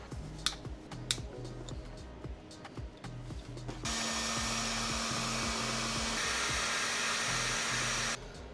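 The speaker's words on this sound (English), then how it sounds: "put some heat shrink over this, and I'll do that right now." Partway through, a heat gun switches on to shrink glue-lined heat-shrink tubing over crimped wire connections on an engine-swapped Miata, a loud steady blowing roar after a stretch of light handling clicks and taps, cutting off near the end.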